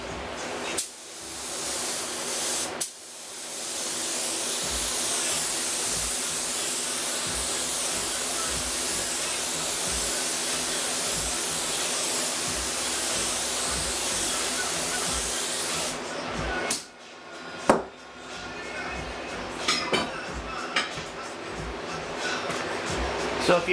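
Spray gun laying a light clear coat over a pinball playfield overlay: a steady, loud hiss running close and continuous for about fifteen seconds after a couple of brief bursts, then stopping, with scattered clicks and handling noise afterward.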